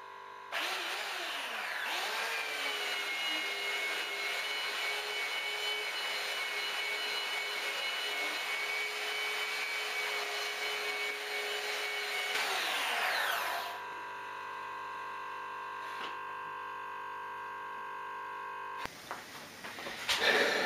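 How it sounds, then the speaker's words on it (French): A belt sander grinds steadily across small, dirty wooden boards, a loud continuous whine that holds for about twelve seconds, then drops in pitch and winds down alone. "je vais poncer des petites planches qui sont très loin d'être propres avec une ponceuse à bande"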